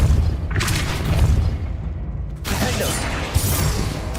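Heavy booming spell blasts from the video game Hogwarts Legacy, a dense, loud roar with a sharp new burst partway through and a small crack near the end.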